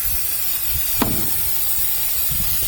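Brake cleaner sprays from an aerosol can onto a 1968 Ford truck engine to degrease it, a steady close hiss lasting throughout with one small click partway through.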